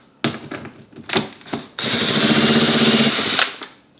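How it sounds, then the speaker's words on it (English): A few clicks and knocks, then a power drill with a T30 star bit whirs steadily for nearly two seconds at close range, removing a bolt on a Tesla Model Y, before stopping. "Then I take a drill and a T30 star bit"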